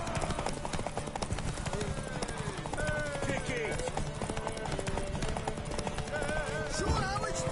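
Horse hooves clip-clop in a steady rhythm during a race in The Witcher 3, with a horse whinnying and voices shouting and talking over the galloping throughout.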